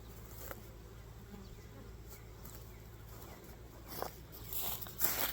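Honey bees buzzing at an open beehive during an inspection, a steady close droning hum with occasional louder passes of individual bees and a few handling clicks.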